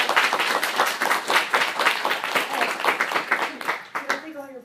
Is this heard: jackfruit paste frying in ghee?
no